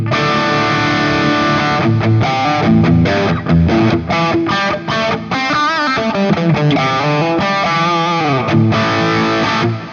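Electric guitar played through a LEKATO Tank-G processor pedal on its Marshall JCM 800 amp model, giving a loud, distorted, harmonically rich tone with sustained chords and melodic runs filling the full stretch without pause.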